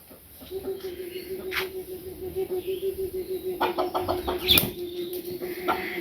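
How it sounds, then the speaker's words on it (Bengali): A chicken that has escaped its cage clucks repeatedly in short, rhythmic bursts, close by and fairly loud, with a brief louder flurry partway through that may be wing flapping, and voices faintly mixed in. "মুরগি বের করছে, মুরগি খাঁচার বাইরে বেরিয়ে গেছে গা"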